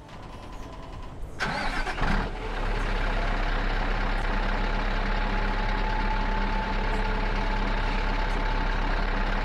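A tractor engine in the Farming Simulator 19 video game cranks and starts with a short burst, then settles into a steady, loud, continuous mid-pitched rumble and idle.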